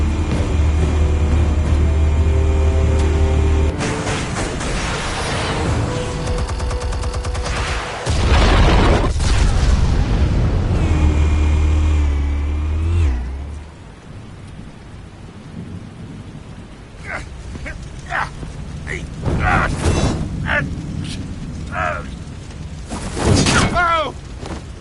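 Explosives detonate in Batman: The Telltale Series, a loud, deep rumbling blast that rolls and swells over several seconds, then settles into a hissing, crackling tail with scattered sharp debris hits.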